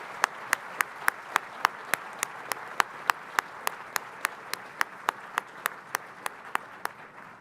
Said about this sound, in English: Give her another round of applause, everybody.